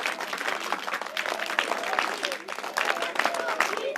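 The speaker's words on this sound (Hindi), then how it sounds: "और चलिए फिर से एक बार ताली स्पेशल।" Schoolchildren at a junior high school event in Dehradun clap a special three-beat clap in a group, repeated sharp bursts of crowded clapping filling the room, loud and close.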